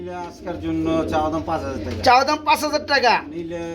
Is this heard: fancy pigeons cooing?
yes